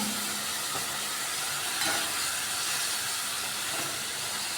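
Water poured into a hot pan of spicy tomato chutney gives a steady, close sizzle and steamy hiss throughout, with a few soft clinks and no talking.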